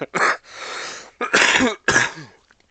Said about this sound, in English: I will still be coughing a bit. I'm still getting the cold gunk out of my chest.